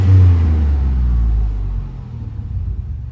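The engine of a 1995 Chevy K1500 pickup truck rumbles loudly up close after a rev, then settles back down toward a lower idle.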